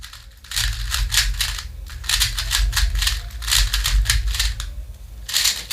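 A Weilong V11 SE standard edition speed cube is turned rapidly, giving close, dense bursts of snappy plastic clicks in quick repeated runs with brief pauses between them.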